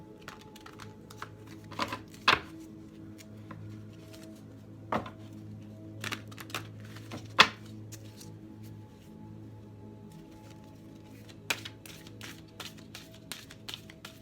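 Tarot cards being shuffled in short bursts of soft riffling and tapping, with quiet gaps between, close by and fairly faint.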